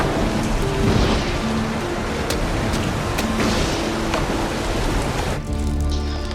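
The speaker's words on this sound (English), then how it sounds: "It's raining outside." Heavy rain pours outside during a thunderstorm, a loud steady hiss of drops on surfaces with low rolling thunder beneath and a few sharper cracks, easing briefly near the end.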